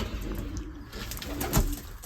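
Young racing pigeons in a loft coo softly, with a few low murmuring calls rising briefly over a steady hum of background noise.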